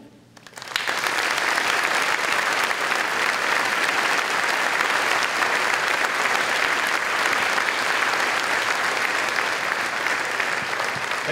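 Sustained audience applause at a 2015 high school graduation ceremony, a large crowd clapping steadily and loudly after a brief quiet start, with no speech over it.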